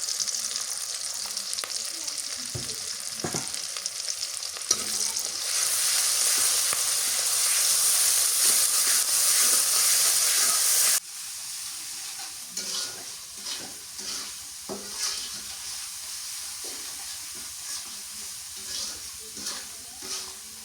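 Spice masala with salt and turmeric cooks down with small jatka hilsa in a pan at a village stove, giving a strong frying hiss. The hiss swells loudest midway, then drops to a lighter sizzle with repeated stirring scrapes.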